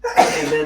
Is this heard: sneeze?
yes